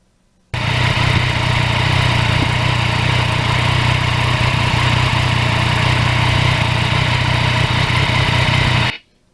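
A Yamaha MT-09 motorcycle engine runs with a steady, loud, unbroken drone, heard close up with no voices, starting and ending abruptly.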